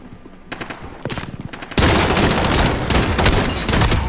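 Desert Eagle pistol fire in the Call of Duty video game: a few sharp separate shots, then a dense, loud sustained burst of game gunfire that continues to the end.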